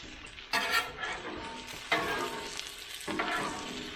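Vegetables sauté on a hot Blackstone griddle turned to medium heat for Philly cheesesteak, a close crackling sizzle that surges in three bursts as they are tossed and stirred, with no talking.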